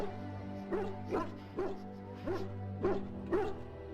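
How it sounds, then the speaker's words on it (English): Mabari war dog from the Dragon Age video game barking in a steady series of about seven short woofs, roughly half a second apart, over a low droning background hum. "Those Mabari dogs are great."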